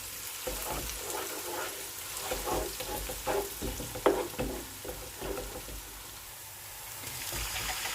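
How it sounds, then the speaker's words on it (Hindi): Chopped tomatoes dropped into frying masala for matar keema, giving a crackling sizzle with irregular stirring scrapes and clatter, moderately close, easing quieter before the hiss rises again. "अब इसके अंदर डालते हैं टमाटर।"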